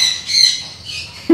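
Parrots, including an African grey, at a pet shop, giving loud, harsh squawks close by, with two or three shrill calls in quick succession.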